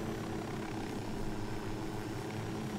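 Helicopter in the video game Ghost Recon Wildlands, a steady dense rotor and engine roar that holds constant and loud throughout.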